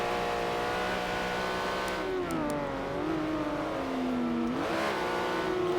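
Porsche Cayman GT4 Cup race cars at Watkins roar steadily, the engine pitch dropping under braking into a corner then surging as power goes down, loud and continuous with no talk.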